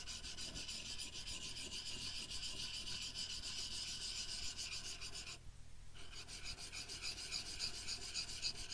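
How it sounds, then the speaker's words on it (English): Steel tool being honed on a double-sided Trend diamond plate in a woodworking workshop: a steady, continuous close-up rasping scrape with a brief pause near the end before the strokes resume. "this is a Trend diamond plate. It's double-sided."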